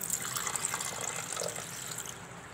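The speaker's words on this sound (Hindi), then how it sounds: "तो सबसे पहले जग के अंदर पानी डाल देना है।" Water is poured into a jug while a cucumber, lemon and mint juice is being made, a steady close splashing gush that runs unbroken before tapering slightly at the end, with no talking.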